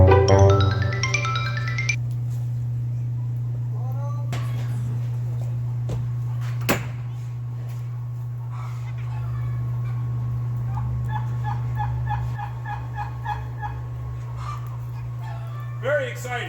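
Motor-driven gear arms lift a greenhouse roof vent on their first start-up: a steady low mechanical drone runs throughout, with squeaky, chirping gear noises on top and people talking nearby.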